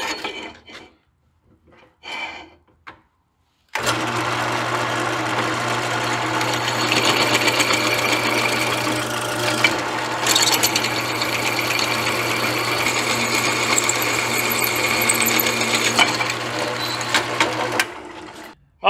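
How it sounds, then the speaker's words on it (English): A drill bores through a metal steering part for a 1940 Chevy coupe, whirring steadily with a constant hum and grinding for about fifteen seconds after brief quiet knocks at the start. "and we'll drill all the way through"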